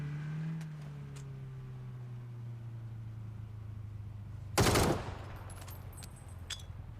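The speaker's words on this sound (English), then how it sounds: "I hear a car behind me." In a PUBG match, a car engine drones and slowly fades from behind the player, then a short, loud burst of gunfire cuts in, with a few faint clicks after.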